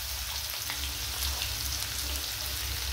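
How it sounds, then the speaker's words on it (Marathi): Mustard seeds, cumin, curry leaves and onion frying in a pan for a green vegetable dish, a steady rain-like crackling sizzle at an even, moderate level. "मोहरी, जिरं, कढीपत्ता, कांदा भाजून घेते."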